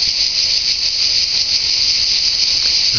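Cicadas sing outdoors on a summer day in France, a steady, continuous high buzz that holds without pause at a moderate distance.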